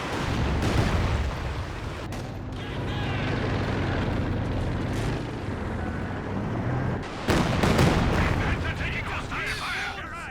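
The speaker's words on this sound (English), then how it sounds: "Looks like the bunker getting barraged, even though it hasn't been upgraded with a machine gun." In a Company of Heroes 2 match, an artillery barrage pounds a bunker with repeated deep booms and sharp blasts over a constant rumble of battle, while a voice talks underneath.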